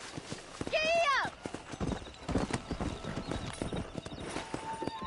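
A horse in the video game Red Dead Redemption whinnies loudly, then its hooves clop in a fast galloping rhythm, close and continuous, while someone speaks over it.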